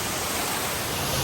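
Steady broadband rush of water from a waterfall at a restaurant in Kaghan, close and continuous, with no talk.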